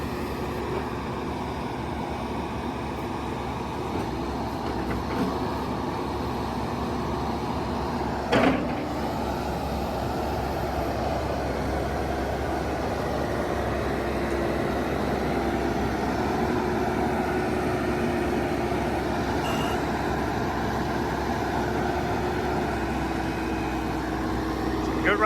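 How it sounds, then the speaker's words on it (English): A JCB 215E four-wheel-drive backhoe from 2004 idles steadily nearby, a constant low engine drone running the whole time with a single clunk partway through. "Good running backhoe, JCB 215E, 4-wheel drive"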